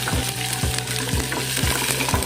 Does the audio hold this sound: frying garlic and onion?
yes